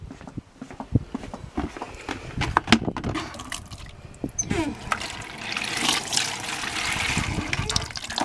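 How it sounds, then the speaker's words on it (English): Water tipped out of a container onto a potted lemon tree, heard as a close splash and trickle that runs on for several seconds, with handling knocks and brief steps around it. "I'm going to take this and tip it out into my lemon tree."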